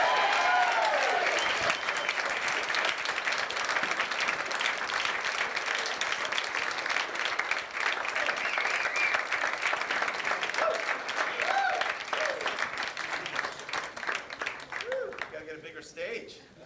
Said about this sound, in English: Now we're going to give you a chance to practice the applause